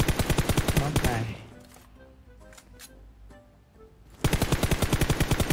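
Automatic gunfire rattles in the mobile shooter PUBG Mobile: a loud, rapid burst of evenly spaced shots, then a quieter gap with a few faint sounds, and a second fast burst starting abruptly.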